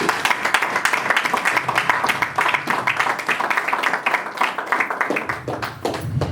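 Church congregation applauding for the Lord, dense continuous rhythmic clapping from many hands, loud and sustained throughout.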